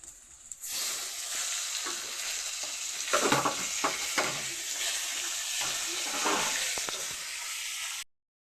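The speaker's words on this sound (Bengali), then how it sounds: "টমেটোটাও একটু ভাজা ভাজা করে নেব।" Tomatoes frying in oil in a home kitchen pan, a loud continuous sizzle with several scraping stirs of a spatula in the middle before it cuts off abruptly.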